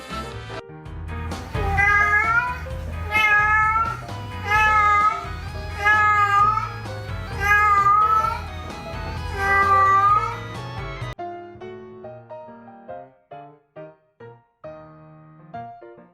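A pet cat meows repeatedly at its owner in drawn-out, wavering, loud cries over a low hum, then the sounds thin into a few shorter, quieter chirps and clicks before stopping.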